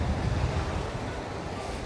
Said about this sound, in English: It's very windy here on the front.